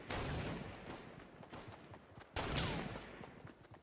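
Gunfire in a shooting video game, a rapid series of sharp shots in quick bursts, with a louder cluster of shots partway through, fairly faint overall.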